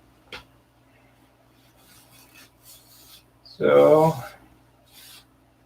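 Hand sanding with a sanding block, a short burst of rough rasping strokes up close, with faint knocks and a brief spoken word nearby.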